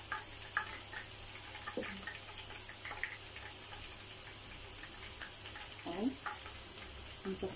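Breaded chicken panee frying in hot oil, a steady low sizzle running throughout with a few brief clatters and stirring sounds, no talking.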